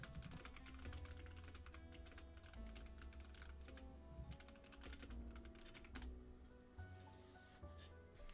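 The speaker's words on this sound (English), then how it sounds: "I can't spell when I'm typing fast." Fast typing on a computer keyboard, a dense, continuous clatter of quick keystrokes close to the mic, steady for several seconds with brief bursts and pauses, no talking.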